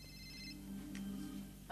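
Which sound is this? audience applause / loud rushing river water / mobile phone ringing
mobile phone ringing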